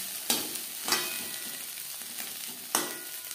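Potatoes frying with chopped green chilli in a pan for dim alur bhujia, a steady close sizzle broken by a few sharp scrapes of the spatula as they are stirred.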